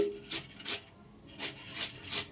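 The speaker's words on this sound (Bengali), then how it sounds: "আলুটা কিন্তু আমি আবারও ধুয়ে নেব আলুর যে বার্লিটা থাকে সেটা যাতে একদম পরিষ্কার হয়ে বেরিয়ে যায়" Potatoes being rubbed clean by hand while washing, for a pointed gourd pakora recipe, give five short, close rasping scrubs in two quick groups, split by a brief pause.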